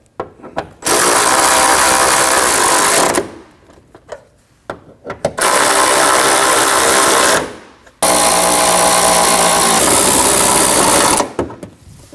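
A power tool tightens hood hinge bolts on a Chevrolet Colorado in three loud, sustained whirring bursts of a few seconds each, separated by brief quiet gaps with small clicks, very close.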